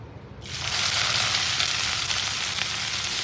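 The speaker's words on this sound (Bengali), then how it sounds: "আমার পেঁয়াজটা ভাজা হচ্ছে" Finely chopped onions hit hot oil left from frying chicken and sizzle loudly at once, a steady bright crackling hiss that holds for a few seconds.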